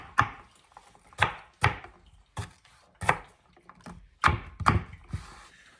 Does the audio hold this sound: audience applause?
no